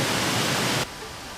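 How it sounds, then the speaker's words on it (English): A waterfall in Pukekura Park, New Plymouth, New Zealand, gives a loud, steady broadband rush of water, heard close and alone, cutting off abruptly near the end. "Waterfall!"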